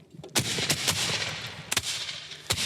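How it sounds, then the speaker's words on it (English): Civil War-era gunfire rings out in several sharp, loud reports spaced irregularly, each with a short echoing tail over a low rumbling background, with no voices. "Commence firing!"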